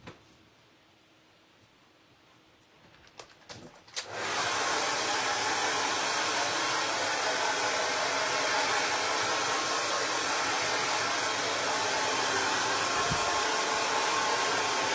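A hair blow dryer switches on after a few seconds of quiet room tone, then runs as a loud, steady, close whooshing roar with a constant motor hum that continues unbroken to the end.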